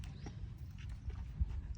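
A mixed-breed mare about 64 inches tall walking, soft low clip-clop hoofbeats heard close and faint over a dull background.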